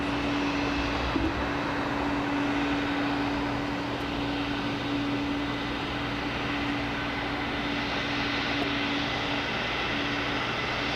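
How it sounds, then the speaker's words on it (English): An ERJ 145 regional jet, United flight arriving from Charleston at Washington Dulles, gives a steady broadband engine roar at moderate distance, lasting throughout with a faint tonal hum and no speech. "This is another ERJ 145 coming from Charleston. United Flight 4322."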